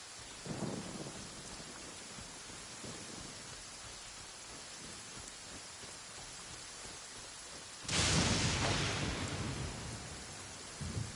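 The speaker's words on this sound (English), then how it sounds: "Did you know that the sound of thunder is the prelude to new life?" A steady wash of rain falls in Genshin Impact, broken midway by a loud, sudden crack of thunder that roars briefly and then fades back into the rain.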